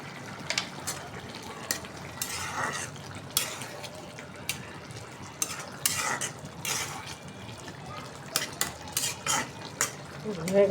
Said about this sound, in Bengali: মশলাটা কষাই নিতেছি, সব মশলা দিয়ে দিছি